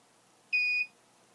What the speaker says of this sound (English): So you see that beep, it already put the next charge up.